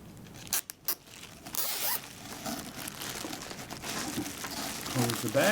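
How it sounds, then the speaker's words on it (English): Plastic zip-lock bag being pressed shut and crinkled by hand while packing a container, brief sharp zipper-like snaps near the start followed by steady close rustling and crinkling. "Close the bag."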